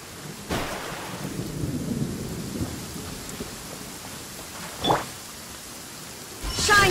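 Heavy rain pours steadily through a stormy video game scene with rolling rumbles, a sharp crack of thunder near the five-second mark and another swelling burst at the end, no talk.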